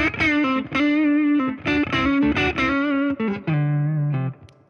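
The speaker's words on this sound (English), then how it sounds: "This is the Distortion 3 again." Heavily distorted electric guitar through a Distortion 3 pedal playing a riff of sustained, saturated chords and notes, loud and close, with a darker tone fading at the end.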